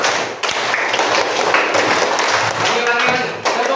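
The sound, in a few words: class clapping a five-beat rhythm twice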